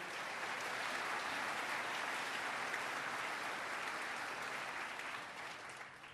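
A large audience at a State of the State address gives a sustained, dense round of applause that holds steady and then tapers off in the last second.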